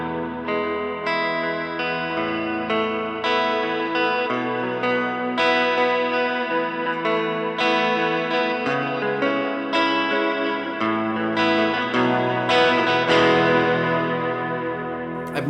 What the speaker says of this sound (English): throw it back into the neck pickup, maybe bring down my volume on my guitar here and just play some chords